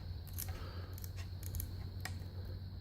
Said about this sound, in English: Turn them scissors around